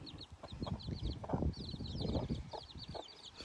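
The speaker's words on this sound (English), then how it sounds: "This is the other hen, so her chicks are a little bit smaller." A hen clucking with her small chicks on a farm, low soft clucks in irregular bursts close by, mixed with rapid high peeping from the chicks throughout.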